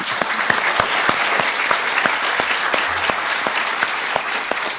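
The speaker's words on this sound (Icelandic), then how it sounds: "Klappiði fyrir kallinu." Audience at a university graduation at Bifröst clapping steadily throughout, with dense, close applause and no break.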